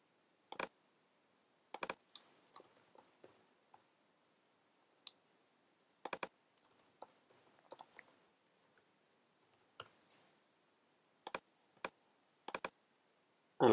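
Computer mouse clicking, a scattered run of sharp, light, close clicks, some singly and some in quick clusters, with quiet gaps between.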